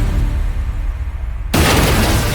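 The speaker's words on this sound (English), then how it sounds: "Boom, massive explosion." After a low rumbling hiss from a gas leak, a massive gas explosion at a gas station bursts in suddenly, then a loud, dense roar of blast and debris sustains to the end.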